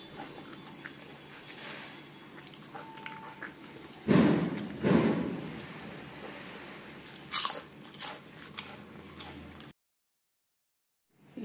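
Crunchy fried food, papad and fried pointed gourd, bitten up close: two loud crisp crunches, then quieter chewing and small crackles before the sound cuts to silence.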